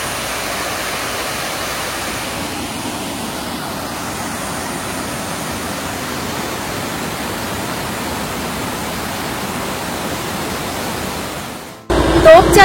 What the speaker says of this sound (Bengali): ড্যাম থেকে প্রচন্ড জোরে জল পড়ছে, পুরো ঝর্ণার জলের মতো